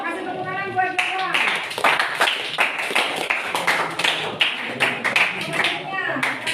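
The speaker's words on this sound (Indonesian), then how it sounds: "kasih tepuk tangan buat Jova" Classroom applause for a student, a run of quick, dense hand claps from a group that fills the whole stretch, mixed with some voices.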